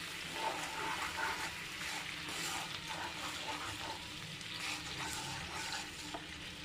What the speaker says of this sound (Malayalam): ശർക്കര നല്ലതുപോലെ ഉരുകി വന്നിട്ടുണ്ട്.